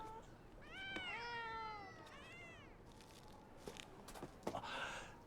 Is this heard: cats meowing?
yes